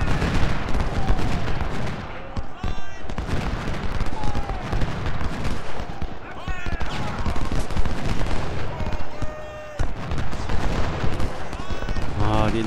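Cannon and musket fire from the video game Ultimate General: Civil War, a dense, continuous stream of overlapping shots and booms under someone speaking throughout.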